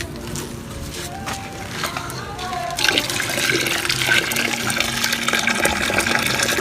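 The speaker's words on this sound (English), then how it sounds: "this now I'm pouring hot water" Hot water is poured onto a thickener while preparing pap. A steady liquid rush starts softly, then swells to a fuller, continuous pour close by.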